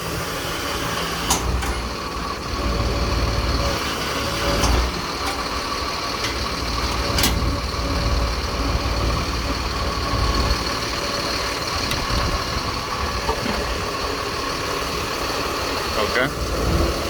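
The diesel engine of a 5,000-gallon jet fuel truck idles steadily at an airfield, supplying hydraulic power to the hose reel, with a constant low rumble, occasional clanks and people talking over it.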